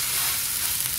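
Drops of water sizzling and skittering in a hot stainless steel pan, heard as a steady, close crackling hiss with no talk over it.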